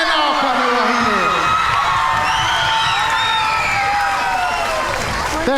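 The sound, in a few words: audience applause and cheering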